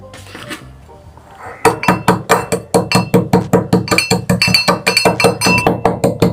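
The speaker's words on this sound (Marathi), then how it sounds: "हे काळं मीठ या खलबत्त्यामध्ये टाकून वाटून घेणार आहे" Black salt is pounded in a mortar and pestle: after a quiet start, rapid regular clinking strikes follow one another loudly and close by until the end.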